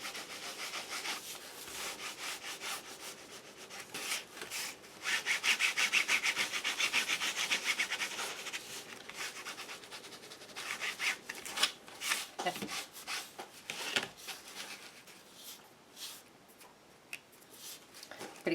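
Brown paper grinds through an embossing machine, a continuous rubbing, scraping sound that builds and then eases, close and fairly quiet with scattered small clicks toward the end.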